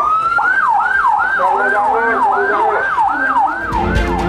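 An ambulance siren wails in a steady, repeating rise-and-fall pattern, loud and close, with traffic rumble underneath toward the end.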